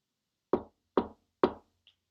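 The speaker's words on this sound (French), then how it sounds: "Qui frappe à la porte de la petite top?" Three evenly spaced, solid knocks rap on a door at night in winter, each a short dull thud about half a second apart, close and clear in otherwise silent surroundings.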